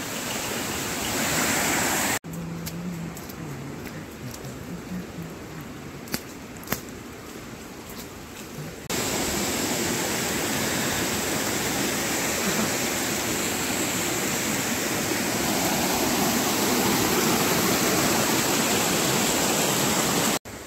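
Water rushing in a stream near Vajrai waterfall, a dense, loud, continuous broadband roar heard close, with a few brief knocks and shifts partway through.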